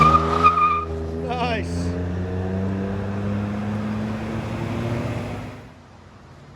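A 2011 Ford F-150 EcoBoost XLT V6 with a muffler delete, retained resonator and factory converters drones with a loud, raspy exhaust tone that holds, then fades out near the end; a brief spoken word comes at the start.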